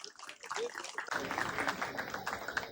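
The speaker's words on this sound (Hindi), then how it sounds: "जोरदार तालियां।" A crowd at a political gathering on Bahujan rights bursts into applause, a broad wash of clapping that swells after a quieter start, with voices mixed in.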